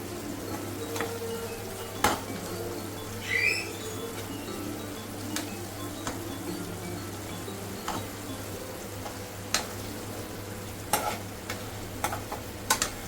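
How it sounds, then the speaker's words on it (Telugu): Dry fish curry with turmeric gets stirred in a pan, with a soft sizzle running under intermittent spoon scrapes and taps against the metal, all close and fairly quiet over a steady low hum. "దీన్ని ఒకసారి బాగా మిక్స్ చేసుకుందాం"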